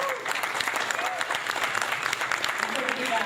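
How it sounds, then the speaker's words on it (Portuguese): An audience at a peace media event claps steadily and fairly loudly, a dense, even applause with some voices faintly audible underneath. "uma salva de palmas a todos vocês que permaneceram"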